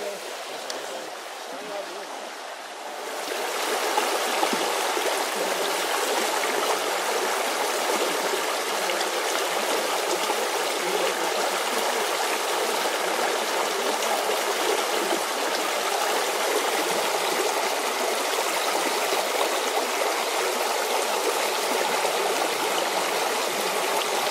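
Hardcore Cascades, a waterfall on the Appalachian Trail, rushes loudly and steadily in a continuous broadband roar, fading in over the first few seconds and then holding constant.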